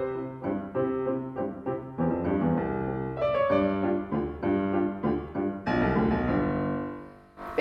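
Solo piano playing the opening of Diabelli's waltz theme, bright rhythmic chords with repeated notes and lilting phrases, close and clear, ending on a sustained chord.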